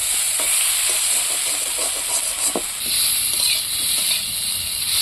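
Poppy seeds and potatoes frying in a pan for a vegetarian curry, giving a steady close sizzle and hiss with a few soft stirring scrapes throughout.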